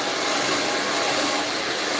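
A handheld hair blow dryer runs close and loud, a steady unbroken whoosh of air and motor hum that holds for about two seconds with no talking.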